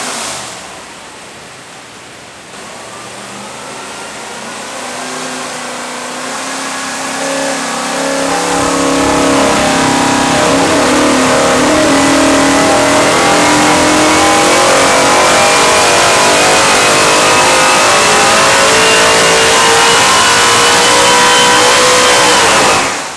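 A 427ci Shelby aluminum small-block Ford V8 makes a dyno pull to 7500 RPM. It starts from a low idle, then roars steadily louder and higher in one long continuous climb, very close and loud, with no talking.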